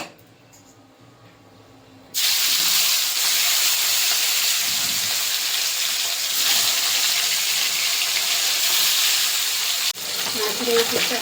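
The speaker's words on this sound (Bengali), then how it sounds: "কড়াইতে দিয়ে দেবো সরষের তেল, মাছটা ভেজে নেব।" Katla fish dropped into hot mustard oil in a kadai bursts into a loud, steady frying hiss that starts abruptly after a quiet moment and roars on continuously, with a brief jolt near the end.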